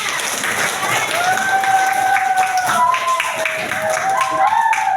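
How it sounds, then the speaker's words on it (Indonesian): Applause from a class of students fills the room, a steady dense patter of hands with some voices and cheering over it, continuing throughout. "Oke, tepuk tangan buat semuanya."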